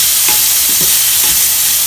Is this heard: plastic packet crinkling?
no